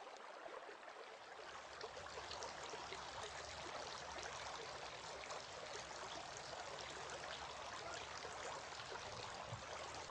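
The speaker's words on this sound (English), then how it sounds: "Washing the feet." Water running while washing the feet during ablution, a steady, faint, continuous hiss of flowing water with no change in rhythm and no talk.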